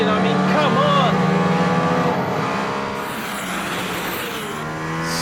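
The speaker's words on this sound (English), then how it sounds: "I'm driving in a car with an F1 engine." A Mercedes-AMG ONE with its F1-derived hybrid engine pulls hard from inside the cabin, a high rising and falling engine whine that shifts pitch as it accelerates, close and loud, with someone talking over it.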